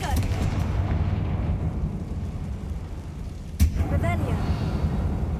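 A Confringo explosion spell bursts in an abandoned, accident-closed mine in the game Hogwarts Legacy, one sharp blast over a steady low rumble, with a voice talking just before it.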